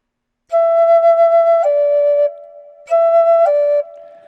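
A high, piercing Native American flute note held steady, dropping slightly, then sounded again after a short pause; bright, reedy and loud, played solo in the upper octave.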